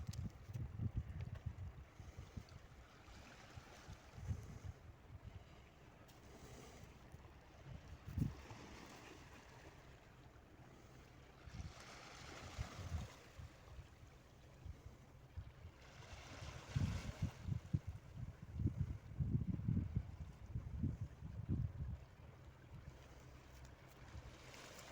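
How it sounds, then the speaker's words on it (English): Gentle sea waves wash ashore at Torrevieja beach on a calm early morning, a soft continuous surge with swells every few seconds and a faint breeze, no voices. "The sounds of the sea."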